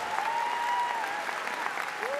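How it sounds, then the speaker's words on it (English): Steady applause from a convocation audience at a university spring graduation ceremony, a continuous even wash of clapping with a faint tone over it. "Let's give him a big round of applause."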